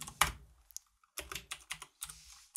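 Typing on a computer keyboard during C# programming: a quick burst of clacking keystrokes, a pause, then several more irregular key presses, close and fairly quiet, with no talking.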